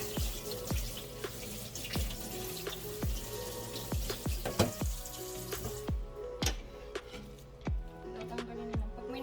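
Tap water runs into a kitchen sink while vegetables are rinsed for a home-cooked dinner, a soft steady splash broken by frequent close clicks and knocks of handling, with brief faint voice traces.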